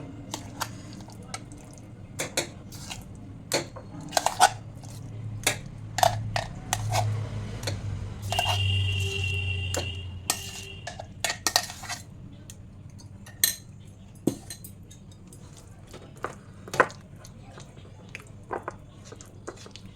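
Food being mashed and mixed by hand in a bowl, with salt worked in: soft, wet squelching and scattered small clicks and taps, close and fairly quiet, with no talk.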